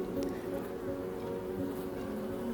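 Honey bees droning at their hive, a steady close-up hum with a continuous pitched buzz that holds level for the whole stretch.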